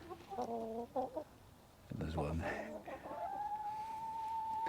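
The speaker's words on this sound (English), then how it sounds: "Here's the chickens." Hens in an allotment coop cluck and squawk nearby, a few short rhythmic clucks followed by a louder burst of calls, while a person speaks briefly and a steady tone hums underneath.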